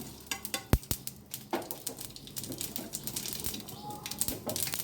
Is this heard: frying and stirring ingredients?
yes